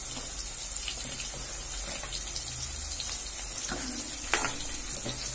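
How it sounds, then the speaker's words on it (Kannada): Onion frying in a pan gives a steady soft sizzle and hiss, with occasional faint clicks and light clatter. "ಈರುಳ್ಳಿ ಫ್ರೈ ಮಾಡೋಣ."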